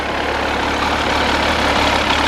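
A car engine idles with its switchable sport mode engaged, giving a steady, low mechanical rumble with a faint ticking texture, close and continuous without talk.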